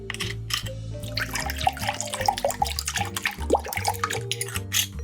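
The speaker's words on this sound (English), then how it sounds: "Take a pitcher and fill it with a full bottle of alcohol-free," Alcohol-free aromatised red wine pours from a bottle into a pitcher, a close gurgling, splashing stream with bubbly glugs over a low background hum.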